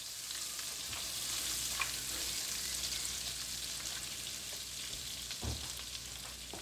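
A knob of butter melts and sizzles gently in a frying pan over low heat, a soft, steady crackle with faint pops and a few utensil clicks, no voices.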